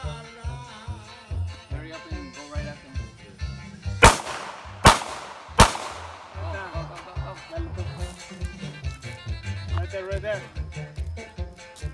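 Three sharp, loud gunshots ring out in quick succession at a Florida ranch, spaced under a second apart, while several people keep talking throughout.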